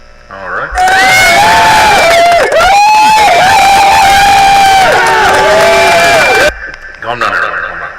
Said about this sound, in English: I heard the crowd cheering.